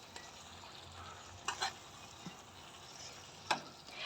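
A spoon stirs chicken fry in a pan with chilli powder and plenty of pepper, making a faint, steady sizzle with a few soft scrapes and clinks scattered through.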